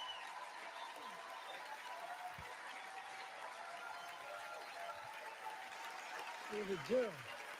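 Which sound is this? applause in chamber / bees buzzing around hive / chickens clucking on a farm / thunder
applause in chamber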